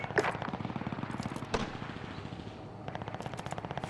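Rapid video game gunfire rattles in a steady automatic stream, loud and close, with a sharp single shot cracking through mid-burst before the fire slackens briefly and then resumes.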